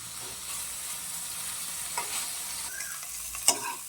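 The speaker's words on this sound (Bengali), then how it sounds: "খুব বেশি ভাজবো না, হালকা ভাজবো।" Prawns fry lightly in a pan on a gas stove, giving a soft, continuous sizzle with a few quick stirring scrapes and clicks, close and fairly quiet.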